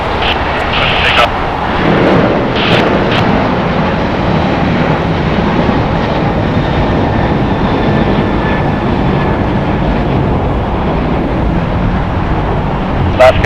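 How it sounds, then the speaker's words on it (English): A 13-year-old Alaska Airlines Boeing 737-800 takes off from LAX, its jet engines a loud, steady roar that fills the whole stretch, with faint voices underneath. "Departing here is going to be Alaska Airlines, flight 1334, going to BZE. It is a Boeing 737-800, 13 years old. Takeoff."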